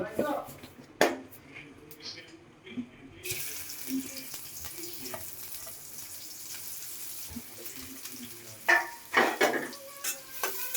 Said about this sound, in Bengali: তো আমি এখন পেঁয়াজটা বেরেস্তা করে নেই।